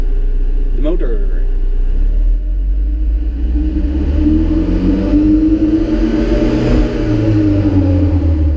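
An Alfa Romeo 4C engine rumbles close by in a parking lot, holding a loud steady drone that swells into a rising rev, with a voice briefly heard near the start.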